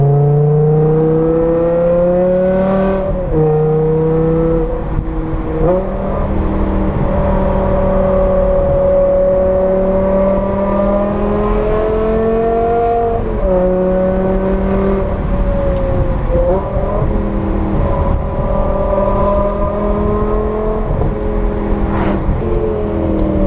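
A straight-piped V10 BMW M6 roars steadily from inside the car while driving, loud and close, with rising and falling revs and brief shifts, no talking.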